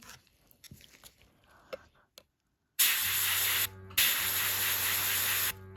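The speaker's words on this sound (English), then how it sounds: "So I'm going to spray it on the towel first" Two long bursts of airbrush spray hiss out loudly as nail paint is sprayed onto a towel, separated by a short pause, after a few quiet clicks and handling noises.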